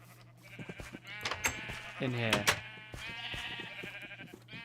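Minecraft sheep bleat several times in quick, wavering calls, fairly close, while a person talks over them.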